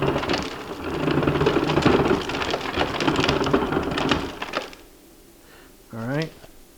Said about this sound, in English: And I'm getting crushed ice.